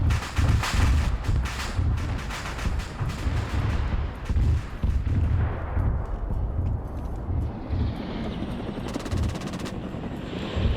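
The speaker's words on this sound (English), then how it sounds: "the AA's firing" Anti-aircraft guns firing in a video game: a dense, rumbling barrage of rapid booms and crackling shots, loud and continuous, easing slightly to a lower roar with a rattling burst near the end.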